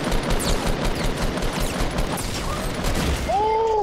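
Fortnite gunfire, a continuous clatter of rapid shots and impacts in a busy game scene, loud and dense, with a short rising electronic tone near the end.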